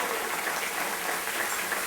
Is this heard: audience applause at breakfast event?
yes